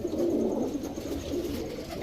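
Young Belgian-bloodline racer pigeons coo softly and continuously nearby, a low throaty murmur with no voices over it.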